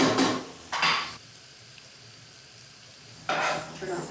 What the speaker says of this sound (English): I think I'm gonna add the pasta